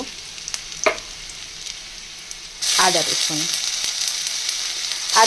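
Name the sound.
onions frying in oil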